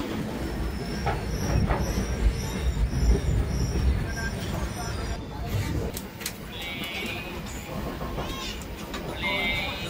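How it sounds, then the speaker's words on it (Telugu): Passengers ride inside a moving train, with a steady low rumble and rattling wheel clatter throughout, occasional high metallic squeals, and faint voices in the background. "ట్రైన్లో అయితే కూర్చున్నాం."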